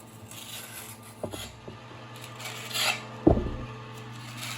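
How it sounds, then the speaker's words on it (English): A metal trowel scrapes tile adhesive onto the back of a shower tile, with soft gritty rubbing strokes and a couple of sharper clinks against a quiet room hum. "I'm just using the trowel to scrape it all on"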